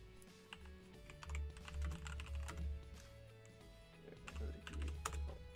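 Rapid keystrokes on a computer keyboard come in irregular bursts of clicks and thuds, close and fairly quiet, with a faint hum and a few soft background sounds.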